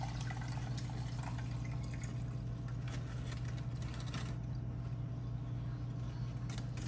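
Brisket broth poured off from a pan in a home kitchen makes a steady, continuous liquid trickle and splash, fairly close, with a constant low hum underneath and no talking.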